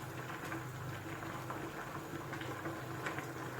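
A pot of pickled bamboo shoot curry with chicken, made without coconut milk, bubbles steadily at a boil, a continuous soft gurgling and popping heard close by with no talking.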